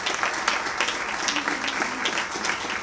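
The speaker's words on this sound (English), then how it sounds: "Let's give them a round of applause." Steady applause fills a school board meeting room, honoring public safety and security staff, a dense, even patter of many hands held at moderate volume throughout without speech.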